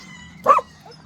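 A single short dog bark or yip sounds once, fairly close, over a quiet background on a farm.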